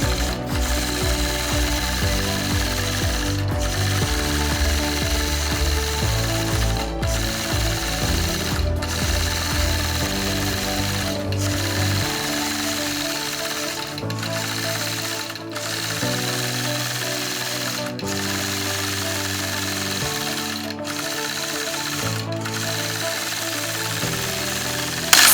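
Sewing machine quilting feather patterns across a quilt, a steady close mechanical hum and rapid needle clatter running continuously, with short regular pauses as the stitching shifts direction.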